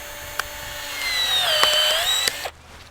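A cordless 12-volt pruning tool cuts through a pine branch, its motor whining steadily and straining slightly mid-cut before stopping abruptly after about two and a half seconds.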